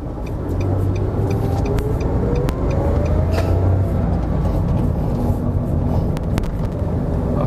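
A 2011 Nissan March driving on a quiet road, heard from inside as a loud, steady engine and road drone with a rising engine tone as it accelerates.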